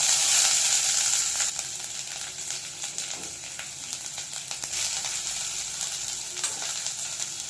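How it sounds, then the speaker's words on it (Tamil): Chopped garlic and cashews sizzle as they are sautéed in ghee and a little oil with whole spices, a bright steady frying hiss with occasional stirring scrapes. "சேர்த்துட்டு நல்லா இந்த மாதிரி ஒரு நிமிஷத்துக்கு வதக்கிடலாம்"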